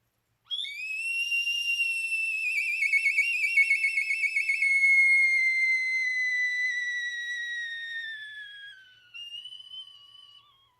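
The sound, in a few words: hummingbird whistle being played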